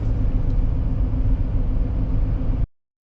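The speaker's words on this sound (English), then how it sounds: "So now I'm just going to drive up into the hills a little bit." A car climbs into the hills in Australia, its engine a close, steady low rumble with road noise that runs evenly for a few seconds before cutting off abruptly.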